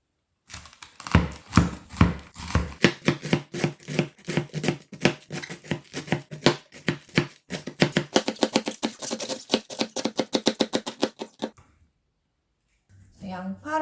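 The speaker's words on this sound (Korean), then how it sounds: "양배추 먼저 썰어줄 거예요." Cabbage being chopped with a knife on a board, a long run of crisp rapid strokes that speed into a tight even rhythm before stopping, followed by a short burst of talk.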